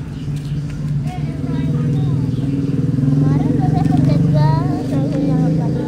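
A child's Goda electric motorbike being test ridden, its faint whine shifting in pitch beneath loud overlapping voices of people talking nearby.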